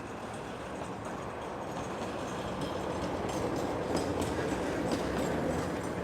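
A tram rolls along Kirov Street in Chelyabinsk, its steady wheel rumble and rail clatter holding near and fairly loud throughout, with faint squeals and clicks on top and no talk.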